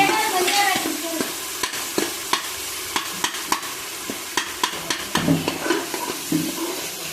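Garlic and coriander paste for mutton sukka sizzles in a pan while a spoon stirs it, giving a steady frying hiss punctuated by a regular run of sharp scraping clicks against the metal, close and fairly loud, with no talking.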